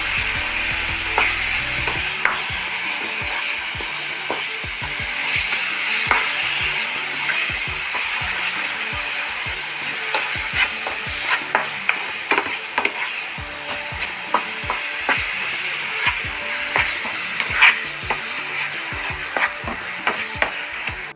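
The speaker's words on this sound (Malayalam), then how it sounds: "ഇത് നന്നായിട്ട് നമ്മൾ ഇളക്കിക്കൊണ്ടിരിക്കണം കേട്ടോ." A spoon stirs thick coconut burfi mixture in a pan, giving a steady, close scraping with a soft sizzle underneath and frequent sharp taps against the pan. Nobody speaks.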